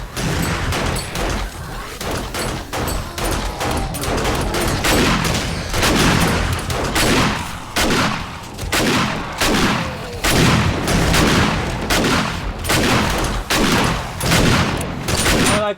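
Rapid gunfire in 7 Days to Die as players shoot at cops, a dense volley of sharp overlapping shots crackling loudly and continuously throughout, with occasional voices underneath.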